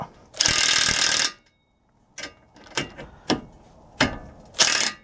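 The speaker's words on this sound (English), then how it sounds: "we're going to use my impact to start it" Impact wrench on a tie rod nut of a 2013+ Ford Focus, loud close bursts: two long whirring runs with several short rattling hits between them, no talk.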